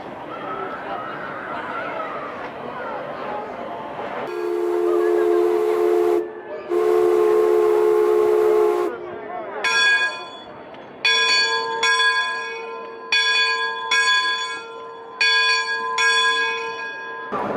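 A loud steam whistle from the Mark Twain riverboat at Disneyland sounds in two long blasts, followed by a bright bell ringing in a steady, repeated rhythm of clangs.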